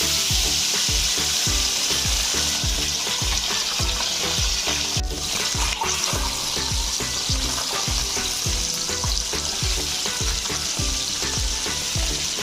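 Loud continuous sizzling of duck eggs frying in hot oil, with rhythmic scraping and stirring knocks throughout, no voices.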